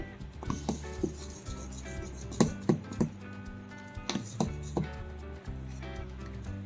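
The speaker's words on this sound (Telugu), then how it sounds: "ఈనో ఇప్పుడు పైకి కిందకి బాగా కలుపుకోవాలి." A spoon knocks and scrapes against a bowl while Eno is mixed up and down into idli batter, giving a series of irregular light taps and clinks over a low background hum.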